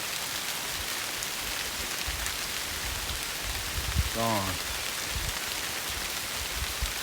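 Dense, steady rainfall hissing throughout, with a short spoken word partway through.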